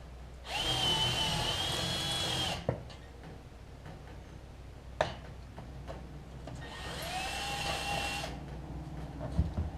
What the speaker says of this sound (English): I'm going to take the drill and wallow this hole out just a smidge more